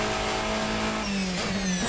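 Race Sim Studio P91 prototype race car in the Assetto Corsa sim, engine screaming loud and constant with a gear change midway as the pitch drops and climbs again, alone without talk.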